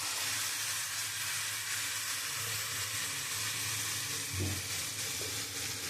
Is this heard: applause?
no